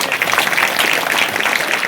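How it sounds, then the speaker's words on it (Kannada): A crowd applauds steadily at a village religious festival for Sharanu Basaveshwara in Hampapattana, dense continuous clapping with no voices over it. "ಚಪ್ಪಾಳೆ ತಟ್ರೆ"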